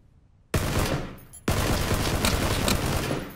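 Gunfire in the video game PlayerUnknown's Battlegrounds: two sudden loud bursts of rapid shots, the second sustained and dense with crackling reports, close and alone without talk.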